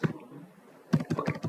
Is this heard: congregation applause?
no